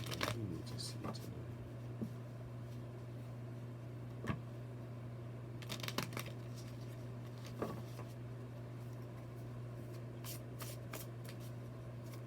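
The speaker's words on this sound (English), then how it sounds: "that was a bad shuffle" Soft riffling card shuffles, a few sharper bursts spaced several seconds apart, over a steady low hum with faint talking in the background.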